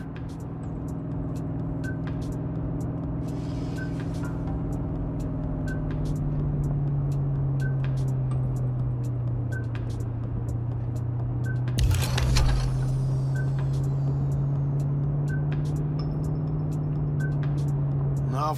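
A car is driven in the video game Cyberpunk 2077, a steady engine drone and road rumble holding throughout, with a brief louder clatter midway and faint regular ticks over it.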